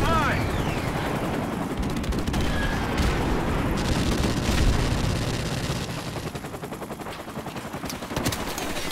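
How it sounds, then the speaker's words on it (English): Call of Duty Modern Warfare Remastered battle noise: a friendly airstrike's heavy rumbling explosions mixed with steady machine-gun fire, loud and dense throughout, with game voice callouts over it. "Friendly airstrike on the way."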